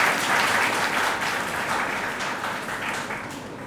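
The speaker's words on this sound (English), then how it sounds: "Give a big round of applause to all of us." An audience at a Teachers' Day event at a school in Hisar gives sustained applause. Dense, loud clapping fills the room and fades slightly toward the end, with no speech over it.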